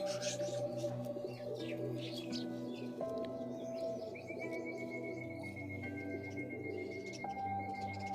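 Flying pigeons kept for sale at a pigeon club, cooing and calling together amid other chirping birds, a steady, dense backdrop of soft coos with faint voices under it.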